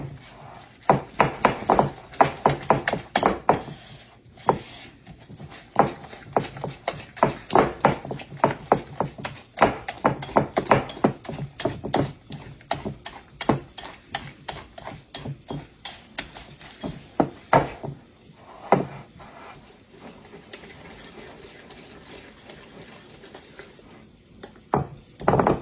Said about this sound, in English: I'm going to whisk this up real good in there.